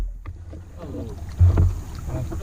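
Kayak paddle strokes pulling through river water on the Deep River, with splashes and a louder surge midway, over steady outdoor background noise.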